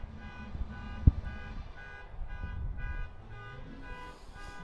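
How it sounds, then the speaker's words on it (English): A car alarm wails with a steady, repeating electronic tone, loud and continuous, with one sharp knock partway through and low rumble underneath, amid a crowd gathered outdoors for the 2023 annular solar eclipse. "this car alarm is going wild"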